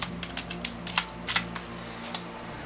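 Password being typed on a computer keyboard at a desk with a KVM switch setup, a handful of sharp, irregular key clicks spaced over a steady low electrical hum, fairly quiet and close, with no talking.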